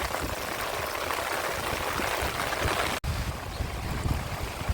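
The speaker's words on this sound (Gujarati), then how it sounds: "जोरदार मित्रों वर्षा चालू" Heavy rain pours down on open farm fields in a village near Dwarka, Gujarat, a dense, steady roaring hiss that fills the whole clip with only a momentary break partway through.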